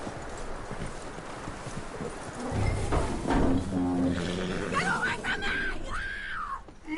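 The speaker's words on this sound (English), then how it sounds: "That looks like a decent horse." Horse hooves clip-clop on the ground in the Red Dead Redemption 2 game, a rough rhythmic clatter under background noise, followed by a sharp whinny and shouting voices, with speech throughout.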